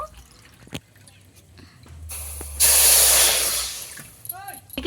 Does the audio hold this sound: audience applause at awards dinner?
no